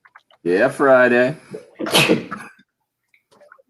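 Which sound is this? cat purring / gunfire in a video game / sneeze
sneeze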